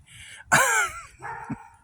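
A dog at an outdoor bonfire gathering gives a short pair of barks, one louder drawn-out yelp followed by a softer bark, close by.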